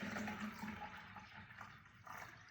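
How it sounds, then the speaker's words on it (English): Steady rushing pour of water into a recycled garden pot for a tulip arrangement, continuous and close with a slight swell near the end. "Got some water here to fill."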